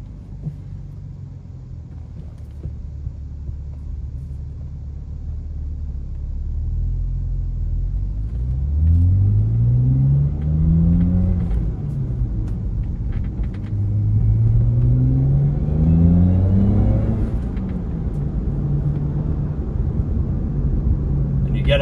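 A 2011 BMW 328i with a swapped N54 engine rumbles steadily and is revved twice, its pitch climbing then falling back into a low burbling exhaust.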